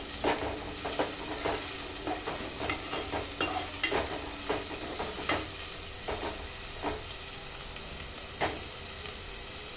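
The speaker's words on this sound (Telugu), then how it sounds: "ఇలా బ్రౌన్ కలర్ వచ్చేదాకా అయితే ఆనియన్స్ ఫ్రై అయితే చేసుకోవాలి." Onions frying in oil while being stirred until brown for a chicken curry, a continuous hissing sizzle broken by regular scraping strokes of a spoon against the pan, close and without speech.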